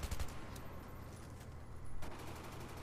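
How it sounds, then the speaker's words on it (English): Battlefield 3 beta gameplay carries a dense, continuous rattle of gunfire with rapid heavy bursts at the start and another swell near the end, all fairly loud and without speech. "If you listen to the gunfire"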